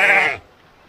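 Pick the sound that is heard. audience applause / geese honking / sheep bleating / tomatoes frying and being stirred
sheep bleating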